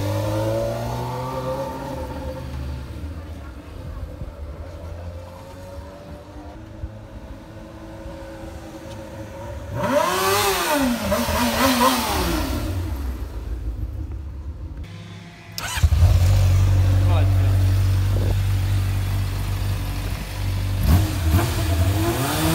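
A remapped pink Honda Hornet with an aftermarket exhaust idles and then blips sharply, rising and falling in two loud revving bursts, followed by a deep, rumbling sustained rev.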